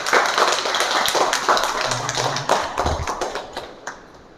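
Audience applause welcoming a district bronze medal winner in shooting from Giridih, a steady crowd clapping with scattered sharp claps that thins out toward the end.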